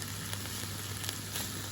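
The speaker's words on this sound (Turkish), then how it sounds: "güzelce bir de kızartalım. Ama kısık ateşte." A continuous soft sizzle of lamb frying in butter in a pan over low heat, steady with faint crackles and small pops throughout.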